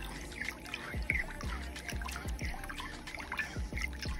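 Hot water is stirred into paprika-colored hair dye, a wet sloshing and dribbling with soft rhythmic splashes of the mixing, close and moderately quiet with no talk.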